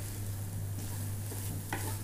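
Chena thoran, a yam stir-fry with coconut oil poured over it, is tossed in a pan. A low, steady sizzle runs throughout, with a brief scrape of stirring near the end.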